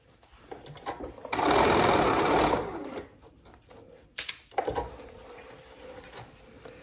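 A sewing machine runs in one steady burst of about a second and a half, basting open the seams of stretchy flare leggings, followed by quieter handling clicks and rustles close by.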